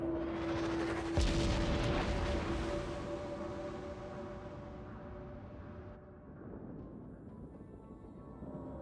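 A Pensacola cruiser in a naval warship game firing high-explosive shells: a sharp booming salvo followed by a long rolling decay under a steady tonal hum.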